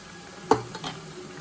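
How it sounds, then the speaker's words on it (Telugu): Onions frying in a pan until light brown, a short stirring scrape with a clatter of utensil against pan over a low sizzle, close by with no speech. "లైట్ బ్రౌన్ కలర్ వచ్చే వరకు అయితే ఫ్రై చేసుకోవాలి కదా"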